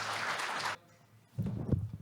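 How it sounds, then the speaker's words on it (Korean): An audience at a business tech conference session applauds briefly as a speaker is welcomed on stage, a dense burst of clapping that drops off abruptly, followed by a soft murmur of voices. "박수로 맞아주십시오"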